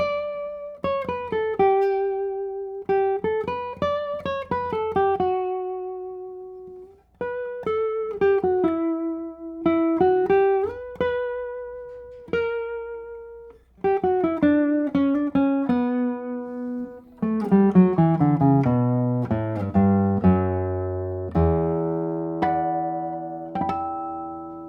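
Davide Scacchi Torres-model classical guitar played solo, clean and bright plucked notes with long sustain ringing out in melodic phrases, ending in fuller strummed chords.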